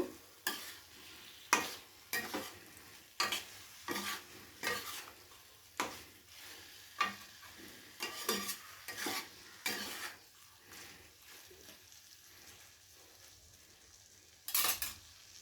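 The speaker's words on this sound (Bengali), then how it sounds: "এবারে খুব ভালো করে নাড়াচাড়া করে নামিয়ে নেব।" Spicy garlic chicken being stirred in a pan with a spoon, about a dozen distinct scraping strokes of utensil on metal over a faint background sizzle, steady rhythm, close and alone without talk.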